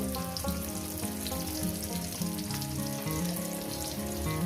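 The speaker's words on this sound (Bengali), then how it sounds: "মিনিমাম পেঁয়াজটাকে আমি দু মিনিট ভেজে নেব" Chopped onion with salt fries steadily in a pan for a ripe pointed gourd mash, a dense, continuous sizzle with crackling pops, close and loud throughout with no talking.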